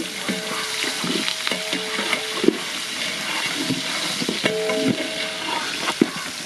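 Chopped onions hitting hot oil in a large village-style pan for biryani, a loud, continuous sizzle and hiss with repeated scraping stirs and metallic clanks spread throughout, no voices.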